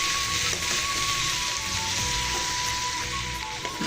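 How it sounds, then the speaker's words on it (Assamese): Potatoes fry in a pan in a home kitchen, giving a loud, steady, close sizzle with soft crackles throughout and no voices. "আলুখিনি ধুনীয়াকৈ অকণমান ভাজি ল'ম"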